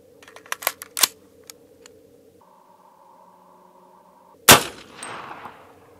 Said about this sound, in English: shoot it from the ARFCOM 8-inch AR-15 upper